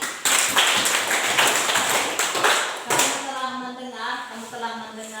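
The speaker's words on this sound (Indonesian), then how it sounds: "Tepuk tangan untuk Ade." A class of students clapping for a classmate, a burst of brisk hand claps up front that fades as a sustained tonal sound and background voices take over.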